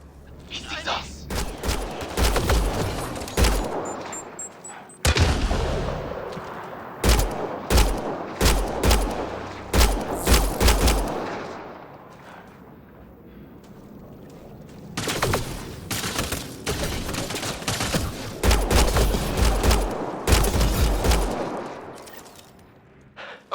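Mass Effect Andromeda combat brings loud, close bursts of sci-fi gunfire in several clusters separated by short lulls, with voices speaking between and under the shots.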